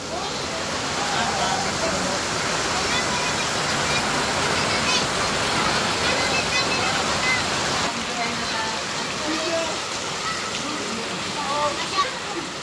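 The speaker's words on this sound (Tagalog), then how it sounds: "Malakas po ang pagbuhos ng ulan" Heavy rain pours down steadily at a house, a dense continuous wash of water close by, with voices talking now and then over the downpour.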